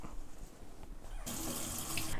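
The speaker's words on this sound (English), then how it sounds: "These aduki beans are from a can, so they're already cooked. And the first step is to rinse them." Canned, already-cooked aduki beans are rinsed under a kitchen tap, the water starting abruptly partway through as a steady, close, broadband rush that continues to the end, with a quieter room hum beforehand.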